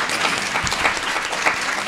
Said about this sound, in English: give these panelists a wonderful round of applause